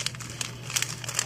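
Stickers being peeled and moved aside make soft, close crinkling and rustling paper sounds in quick irregular bursts, quiet, with no talking.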